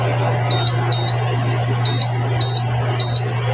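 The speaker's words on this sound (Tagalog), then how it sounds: "Lalagyan natin siya ng timer para kusa siya namamatay" A microwave oven set to 1,200 power gives five short, clear electronic timer beeps in an uneven rhythm as the timer is set, over a steady low appliance hum.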